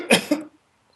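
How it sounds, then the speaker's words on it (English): Someone coughs close into a microphone, two quick harsh bursts in succession, then silence. "Somebody's coughing in the mic."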